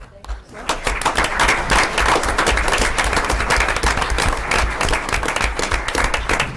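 A council meeting audience applauds steadily with dense, sustained clapping that fills the room, starting after a brief quiet moment and continuing without pause.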